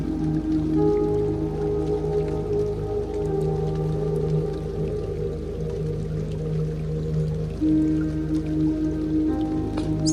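Steady rainfall with a constant wash of drops and a low rushing background, even and moderately loud throughout, with faint tonal hums underneath and no voices.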